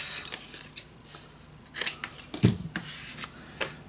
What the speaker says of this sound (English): Cut the corners.